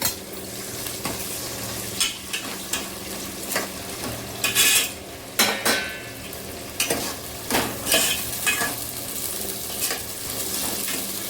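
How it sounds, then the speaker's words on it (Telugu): Tomatoes and onions fry in a pan for a Nellore fish curry, a constant close sizzle broken by repeated scraping stirs and light utensil clinks against the pan, with no voices. "టమోటా అండ్ ఆనియన్స్ బాగా డీప్ ఫ్రై చేసుకోవాలి."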